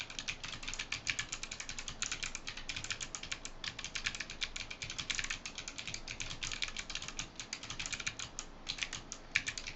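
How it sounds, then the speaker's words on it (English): Rapid, continuous clacking of a Lily58 Pro mechanical keyboard with thick click Box Navy switches, dense crisp clicks in an even typing rhythm, close and alone. "For those curious about the thick click Box Navy switches, here's a quick sound typing test"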